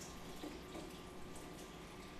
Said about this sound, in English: I just need to fill up my pitcher.